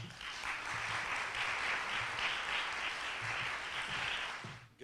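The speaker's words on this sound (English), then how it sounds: "A hearty round of applause and welcome to Ralph Smith" An audience applauds to welcome the first speaker at a San Diego foundation talk on poverty, a steady, fairly distant round of clapping lasting a few seconds before tapering off.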